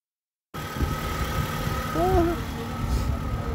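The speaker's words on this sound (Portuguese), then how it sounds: "Olha o barulhinho do motor" A used car's engine idles with a low, steady hum after a brief silence at an outdoor used-car fair in Brasília, while a voice speaks briefly over it.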